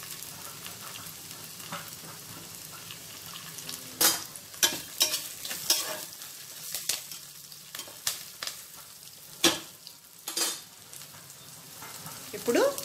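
Dry red chillies and curry leaves fry in hot oil for a fenugreek dal, a low steady sizzle broken by sharp bursts of crackling and spatula scrapes as the pan is stirred, heard close up.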